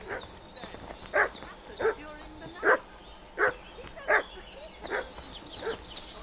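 A dog in a video game barks repeatedly in a steady rhythm, about eight short yips and woofs at moderate distance, with faint background sounds between them.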